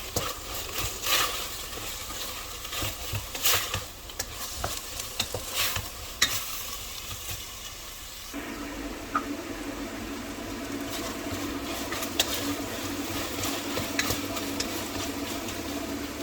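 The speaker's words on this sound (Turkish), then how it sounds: "orta ateşte soğanlar hafifçe yumuşayana kadar kavuralım" Steady sizzling of onions sautéing in a pan over medium heat, with intermittent clinks and scrapes of stirring, close and moderately quiet, no voices.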